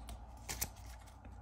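A deck of cards for the Marvel Champions card game is shuffled in a quick, brief flurry of papery riffling, close and fairly quiet.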